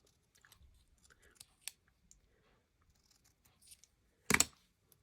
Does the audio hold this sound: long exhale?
no